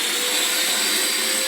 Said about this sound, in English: So here we are vacuuming.